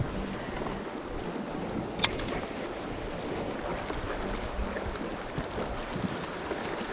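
An outboard motor drives a fishing boat at high RPM, a steady broadband roar with wind and water rush throughout, constant and close with one brief knock partway through.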